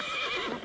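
A horse on a horse farm lets out a loud, close whinny, a wavering high-pitched neigh that fills the short moment with no talk over it.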